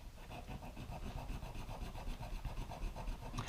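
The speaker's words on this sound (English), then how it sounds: "be careful as you're filing here or sanding" Steady rhythmic rasp of a file and sandpaper scraping over a plastic 1/64 scale model car body during body work, close and continuous with regular back-and-forth strokes, no talk.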